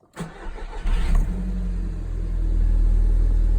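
An Audi TT 2.0 TFSI with 200 hp and a Milltek exhaust cranks briefly and catches, then settles into a steady, deep idle rumble close by.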